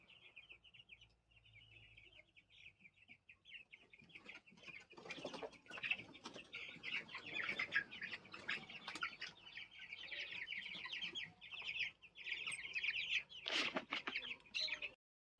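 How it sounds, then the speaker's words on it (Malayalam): Half-grown chicken chicks in a large coop chirp and cluck almost nonstop, with louder scuffling bursts from the middle onward, close and fairly faint overall, with no speech. "അപ്പോൾ നമ്മുടെ കോഴിക്കുട്ടികൾ അത്യാവശ്യം വലിപ്പം വെച്ചിട്ടുണ്ട്."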